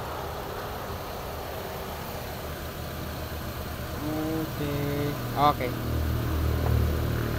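A Chevrolet Aveo engine idles steadily at close range to warm up its newly replaced AC compressor, a low, even hum with a voice speaking over it.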